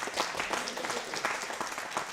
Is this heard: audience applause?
yes